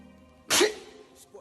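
A single sharp sneeze bursts out close and loud after a moment of quiet room tone.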